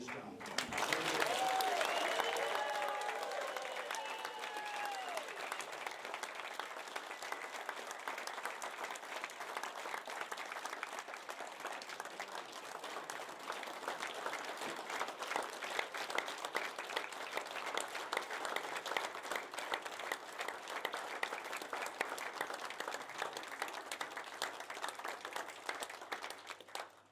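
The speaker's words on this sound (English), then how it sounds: "I'd like you now to all join me and give a rousing cheer for Errol for all he's done" Guests at a formal reunion dinner cheering and applauding, a brief burst of cheers at the start giving way to long, sustained clapping from a room full of people, fairly distant and even throughout.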